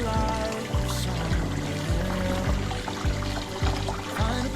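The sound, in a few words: hot water being poured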